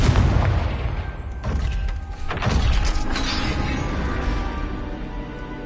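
Confringo spell explosions in Hogwarts Legacy, a loud blast and booming crash with debris clatter, followed by further heavy impacts and a rumbling, reverberant tail, close and dominant.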